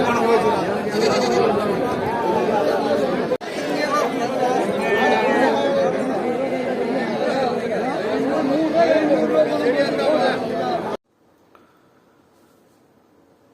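A crowded goat market at Mylampadi, with constant loud human chatter and repeated goat and sheep bleats mixed in. The noise is dense and close, then cuts to near silence at the end.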